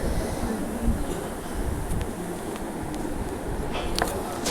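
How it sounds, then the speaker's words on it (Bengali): A toy train runs through a restaurant in Bagnan carrying food to the table, giving a steady rolling rumble with faint rail clicks and squeaks under busy room ambience. "ট্রেনে করে খাবার সার্ভ করতে আসছে আমাদের খাবার"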